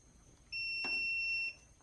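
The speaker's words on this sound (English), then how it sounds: "There's your audible alarm telling you just powered it on." A Cybertake S2 Pro portable air conditioner gives its power-on beep: one steady high electronic tone held for about a second, clear and fairly loud over faint background hum.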